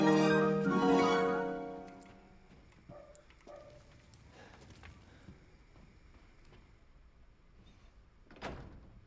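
A door unlocking and opening in a video game, a loud scraping, rumbling opening at the start that fades out, followed by scattered small clicks and a short burst near the end.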